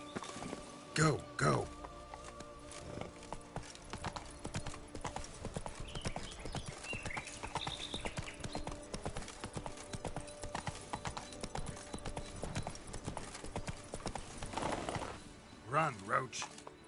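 Roach the horse gallops in The Witcher game, rhythmic clip-clop hoofbeats running steadily throughout, with a brief whinny and a voice speaking over the hooves.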